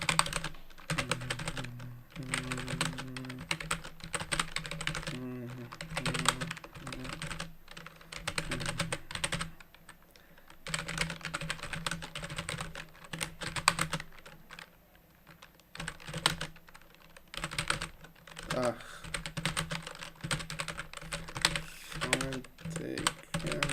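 Fast, steady clatter from an old computer keyboard during a typing test, dense keystrokes running nonstop at close range with brief pauses, alone without talk.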